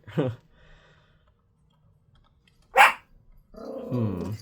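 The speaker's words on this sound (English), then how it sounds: "Oreo, who are you barking at" A single sharp dog bark rings out close by in a quiet room, followed by a person speaking.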